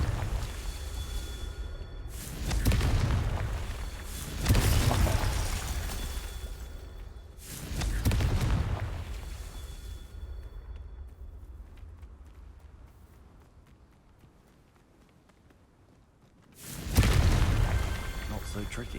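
Confringo fire spell explosions in the video game Hogwarts Legacy: several loud booming blasts spaced a few seconds apart, each with a rumbling decay, the last after a quieter stretch.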